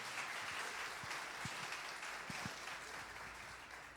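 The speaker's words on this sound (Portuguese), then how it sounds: "nós o recebemos com uma salva de palmas a ti," In a church, a congregation gives Jesus a round of applause: a continuous, soft-sounding wash of many hands clapping, heard at a distance and fairly quiet.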